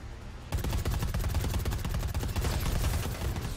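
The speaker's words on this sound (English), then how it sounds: "Shooting us, shooting us." Rapid gunfire erupts in the video game Predator: Hunting Grounds, a loud, sustained automatic burst with tightly repeating shots that begins after a half-second lull and continues to the end.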